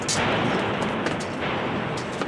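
Artillery shells burst in a mock battle scene with French gunners, heard as a rumbling explosion followed by several sharp cracks and bursts over a dense, roaring background.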